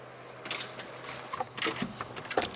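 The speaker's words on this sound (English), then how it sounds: "take it off the rest of the way with a ratcheting wrench" Ratcheting wrench turning out a transmission mount bolt on a Ford Fusion, giving a few short bursts of metallic clicking in uneven groups, close and moderately loud with pauses between strokes.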